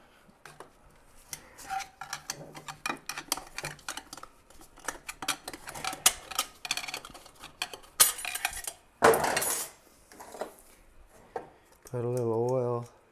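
Snap ring being worked out of a 350 automatic transmission on a 1979 Chevy Corvette, with close, sharp metallic clinks and taps in quick irregular bursts, a few louder scrapes, and a short whirring tone near the end.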